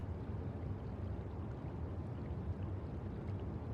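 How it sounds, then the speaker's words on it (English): Steady waterfall ambience in the video game Wuthering Waves, a constant low rushing roar of falling water that stays even and unbroken throughout. "What's that sound in the background? Is it like waterfall or something?"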